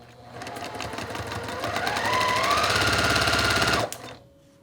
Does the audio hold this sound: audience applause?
no